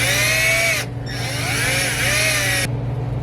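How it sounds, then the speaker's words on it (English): Power drill boring a hole into a transmission seal during a clutch job on a Mark 2, loud whining motor with pitch sweeps, a brief dip near one second, then cutting off abruptly over a steady low hum. "we're gonna drill a hole into the seal"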